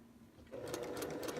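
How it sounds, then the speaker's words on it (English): Sewing machine stitching quilt half-square triangles a quarter inch from the line, starting up after a low hum and running in a quick, even mechanical chatter, faint and close. "you are sewing a 1/4 inch from the line"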